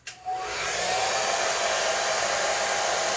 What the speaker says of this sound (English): Once again, I'm using the blow dryer to dry it and make sure that the glue is sticking to the other track